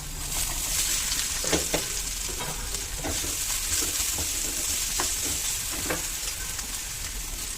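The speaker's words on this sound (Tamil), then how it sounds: "இஞ்சி பூண்டு ஆயில் ஊற்றி இஞ்சி பூண்டு போட்டுக்கிறேன்" Ginger and garlic fry in oil in a pan while stuffing for onion samosas is made, giving a constant bright sizzle with a run of soft stirring taps and scrapes close by and no voices.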